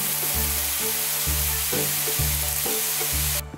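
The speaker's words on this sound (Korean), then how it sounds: "차차가 오면은 소독을 실시하는데 차량용 소독을 지금 가동해 보겠습니다" An automatic vehicle disinfection sprayer running at a farm gate, giving a steady hiss of spray over a rhythmic mechanical pulsing pump that repeats about every half second, cutting off abruptly at the end.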